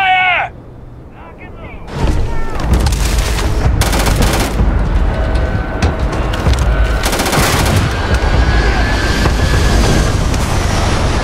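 Sustained bursts of automatic gunfire in a Starfield firefight with pirates at a research lab, loud and dense after a short shouted voice at the start, rattling on almost continuously.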